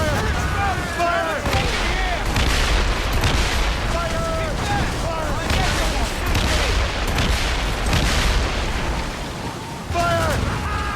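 Naval cannons on sailing ships firing in Assassin's Creed Rogue, a loud continuous barrage of booming shots and blasts over dense battle noise, with shouted voices mixed in.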